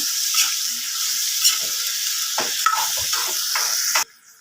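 Okra fry being stirred in a hot pan, a steady loud sizzle with scraping strokes of the spoon through the vegetables, the frying noise cutting off near the end.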